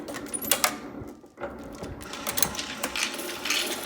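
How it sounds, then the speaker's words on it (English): An ammunition reloading press runs slowly at about 700 rounds per hour, giving close, irregular mechanical clicks and clatters with a brief pause partway through. "you can see the machine just barely moving"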